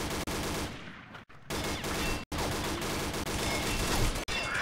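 Rapid, sustained automatic gunfire in the shooter game Combat Arms, loud and continuous bursts broken by a few brief pauses, with no talking over it.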